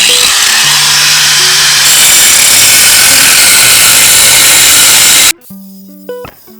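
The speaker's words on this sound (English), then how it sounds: "why I'm cutting these top bolts on the front bumper down this way" A power tool cuts through the top front bumper bolts on a Toyota Land Cruiser FJ62, a loud continuous grinding whine from close by that stops abruptly near the end, leaving a few faint clanks.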